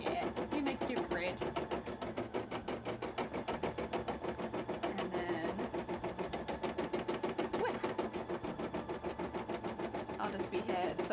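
Embroidery machine stitching a grid onto cosplay armor, a rapid, regular mechanical needle clatter that runs steadily throughout, with a person talking over it.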